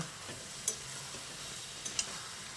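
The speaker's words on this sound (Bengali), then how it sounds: "কুলটাকে বেশ কিছুক্ষণ ফোড়নের সঙ্গে কষিয়ে নেওয়ার পর দেখুন কুল থেকে বেশ খানিকটা পরিমাণে জল ছাড়তে শুরু করেছে।" Jujube fruit is stir-fried with tempering spices for a sweet pickle, giving a faint, soft sizzle with two light taps of a utensil against the pan.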